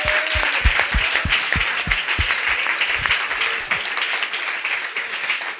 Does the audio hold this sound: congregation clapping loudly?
yes